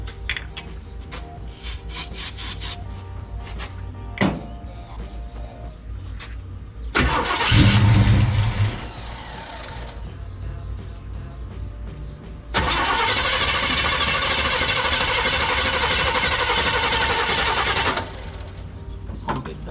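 Chevelle engine that sat in a Texas barn for years cranks repeatedly with a starter whirr, pausing between attempts, then a long, louder cranking stretch that fails to catch.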